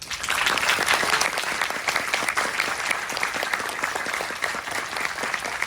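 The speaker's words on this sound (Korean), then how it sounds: "큰 박수로 환영해 주시길 바랍니다" An audience at a keynote lecture by the Minister of Oceans and Fisheries gives steady, dense applause that holds at an even level throughout, with no voices over it.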